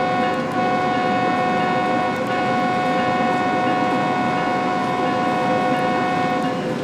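A BNSF ES44C4 diesel locomotive in Train Sim World 3 drones steadily and loudly on the Cajon Pass route, with a continuous engine hum and a horn-like tonal layer.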